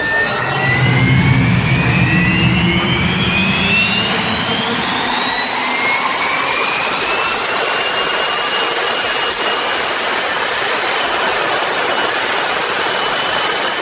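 A Fire Force 5 jet dragster's jet engine roars loud and steady at a drag racing event, a rising whine sweeping upward over the first seconds before holding a sustained, continuous blast with no voices.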